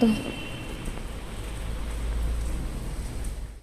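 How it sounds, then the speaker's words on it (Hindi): Heavy monsoon rain falls as a steady, even hiss with a low rumble beneath, continuous and moderately close, with no voices. "अभी पता भी नहीं है बारिश होती रहेगी या रुकेगी"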